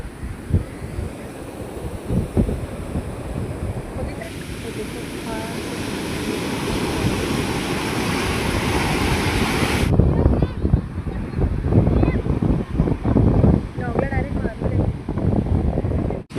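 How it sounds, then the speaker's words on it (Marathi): Waves breaking on a clean sandy beach on the Karnataka coast near Gokarna or Murudeshwar, a steady roar of surf with gusty wind buffeting the microphone, continuous and fairly loud throughout, with some people talking faintly in the background. "पण किती छान बीच आहे एकदम. पाणी पण खूप सुंदर आहे, स्वच्छ पाणी आहे."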